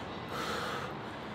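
Sharp gasping breaths and snorts from a person lowering into a cold ice bath plunge tub, quick and close, with no speech.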